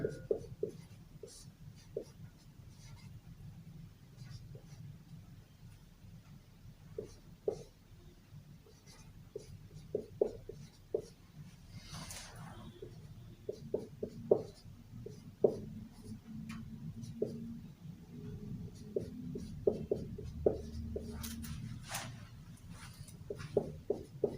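Pen or chalk writing on paper or a board during a Class 10 maths lesson on quadratic equations, heard as soft scratchy strokes and taps in an irregular rhythm over a low steady room hum, with no talking.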